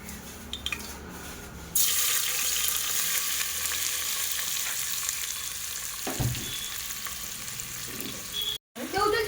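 Onion dropped into hot oil for prawn biryani, a sudden steady frying hiss that starts after a moment of quieter background and continues with faint stirring and a brief knock.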